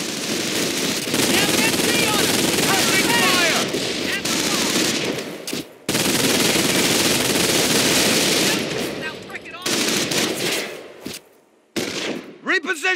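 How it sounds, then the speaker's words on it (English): Sustained bursts of machine gun fire rattle through a Company of Heroes: Tales of Valor battle at Causeway, loud and dense with gunshots layered over battlefield noise, briefly cutting out near the middle and again toward the end while soldiers shout orders. "Engage that MG, Airborne. MG, take them out."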